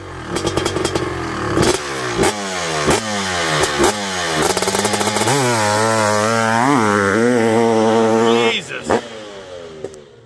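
A Honda CR 500 single-cylinder motocross motorcycle engine revs loudly and repeatedly, its pitch climbing and dropping in close bursts before a long rising pull that cuts off near the end.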